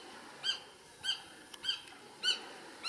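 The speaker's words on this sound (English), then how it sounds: "here's my red-shouldered hawk" Red-shouldered hawk in a front yard, calling in a series of five loud, evenly spaced downslurred cries about half a second apart over quiet background.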